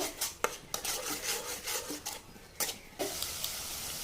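A spoon scrapes and clinks in a pan as egg curry with yogurt is stirred, giving close, irregular scraping strokes and sharp taps, fairly quiet with no voice.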